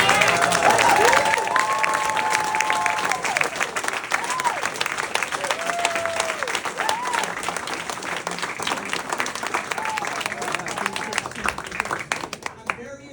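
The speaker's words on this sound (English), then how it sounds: "So please give yourselves a round of applause." Audience applause at a victory celebration for a candidate elected to the legislature fills the room with dense, sustained clapping, with voices and scattered cheers mixed in, steady for the whole stretch.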